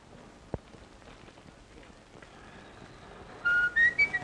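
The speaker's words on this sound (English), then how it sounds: "just blow a few notes of reveille" A few short whistled notes of reveille rise near the end, bright and clear over a quiet background with a faint patter and an early sharp click.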